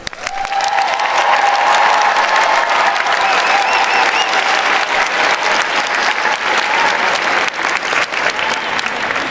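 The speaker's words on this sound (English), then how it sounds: "Please join me in a very loud round of applause." A large graduation-ceremony crowd claps loudly and continuously after graduates receive highest distinction, a dense, sustained roar of hands with faint cheering mixed in.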